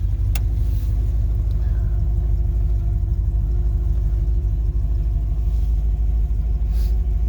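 A 1958 Chevrolet Impala Sport Coupe with a 348 engine and automatic transmission idles on a freezing day while warming up, giving a steady, close, continuous low rumble with no voices.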